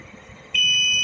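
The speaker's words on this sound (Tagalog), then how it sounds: "So, nakakuha na tayo." A ship's off-course or heading monitor alarm starts abruptly on the bridge, a loud, steady high-pitched electronic tone that cuts in over quiet background hum and holds.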